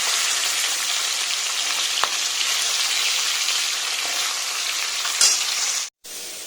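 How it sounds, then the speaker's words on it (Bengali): Eggplant fries in oil left over from frying fish, giving a loud, dense, steady sizzle close by, with a brief clatter near the end and a short drop to silence before the sizzle returns. "মাছের যে তেলটা ছিল ভাজার পরে সেই তেলে বেগুনটা ভেজে দিয়েছি"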